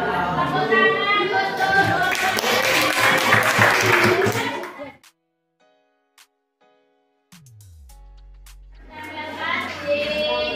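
A burst of clapping and applause from a group of children in a classroom fills the first few seconds, then quiet, then clapping rises again at the end.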